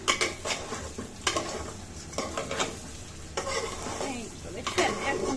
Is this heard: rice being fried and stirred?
yes